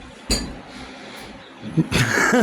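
Glass clinks and taps from stirring a chromium oxalate chemistry mixture in laboratory glassware, a sharp clink early, then a cluster of rattling knocks near the end over a low background hiss.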